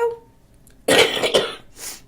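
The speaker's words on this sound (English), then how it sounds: "I do have a cold, so forgive me if I have to cough here and there." A person with a cold coughs twice in quick succession, close and loud, followed by a softer throat-clearing breath.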